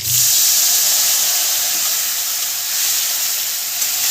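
Water poured into a hot pan of okra with turmeric sets off a loud, steady steam hiss and sizzle that fills the whole stretch, close and unbroken.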